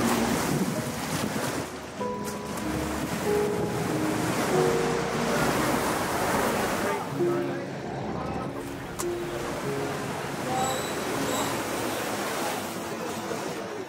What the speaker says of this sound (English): Time for a little bit of sailing.